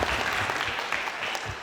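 An audience claps together in a short burst of steady, moderately loud applause at a talk on entrepreneurship, with no voices over it.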